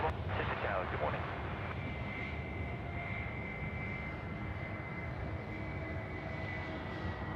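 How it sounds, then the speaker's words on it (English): A Qantas Airbus A330 on final approach to runway 34 left at Sydney Airport, arriving from Bangkok: a steady, distant jet engine roar and whine holding level throughout, with someone talking over it and a faint hiss of wind. "Qantas 24 in from Bangkok this morning. Now finals 3-4 left. Here we go. It's the A330."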